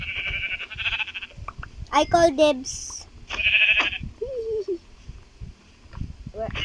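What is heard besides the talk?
sheep bleating in Minecraft video game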